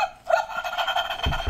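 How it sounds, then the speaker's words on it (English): A robot dog toy gives a short run of electronic barks and yips, close and fairly loud, with no voices. "Robo dog, do you have not?"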